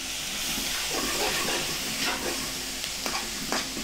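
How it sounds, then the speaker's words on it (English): Beef and vegetables for a teriyaki beef stir-fry are stirred in a hot pan, giving steady close sizzling and hissing broken by brief scraping strokes, with no voices. "now that you've got all of your vegetables in there, you can give it a good stir"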